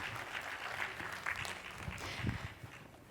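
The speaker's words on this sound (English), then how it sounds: "Please give them a warm applause." A conference audience applauding as a hotel-industry panel is introduced, a moderate, continuous patter of clapping with a few louder individual claps, thinning toward the end.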